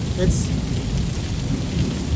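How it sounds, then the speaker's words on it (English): Steady afternoon rain shower with thunder, a dense, even hiss of rainfall at constant loudness with a low rumble of thunder beneath, no voices. "Well, here it is, our afternoon shower."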